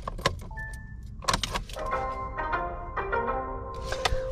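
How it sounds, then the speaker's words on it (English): Chime from a 2023 Kia Soul cabin sounds over a steady low engine idle, with several clear bell-like tones and short sustained beeps rising and fading across a few seconds; no one speaks. "You have a nice little chime, which let's play that back."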